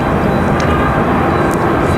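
An American Airlines airliner on runway 23 right at Raleigh-Durham International gives off a steady, even roar with no distinct peaks, heard at a distance.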